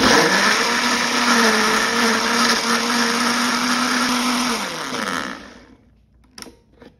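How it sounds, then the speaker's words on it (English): A blender whirs loudly at a steady pitch for several seconds blending salsa roja, then winds down and stops, followed by a few faint clinks. "And blend."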